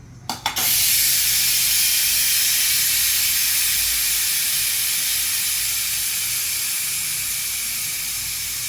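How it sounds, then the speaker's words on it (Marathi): Loud, steady steam hiss from a pressure cooker being opened after cooking liver (kaleji) on medium flame, starting with a couple of sharp clicks, then a sustained, close, bright rush that slowly tapers. "मी लगेच कुकर उघडलेले आहे"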